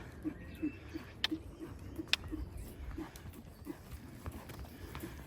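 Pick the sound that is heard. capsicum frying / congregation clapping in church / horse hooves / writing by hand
horse hooves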